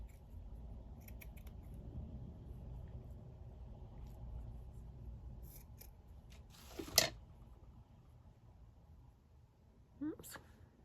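Scissors cutting across a strip of lace while making a craft from paper ephemera, a soft steady snipping texture under low room rumble, with a brighter sharp snip near the end and another brief one shortly after.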